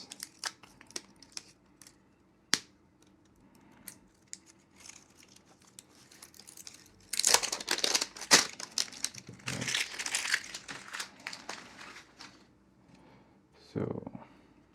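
Plastic packaging being unwrapped from a Hasselblad 907X camera power supply: scattered crinkles and tearing, then a dense burst of loud rustling and crushing in the second half, with a brief quieter crinkle near the end.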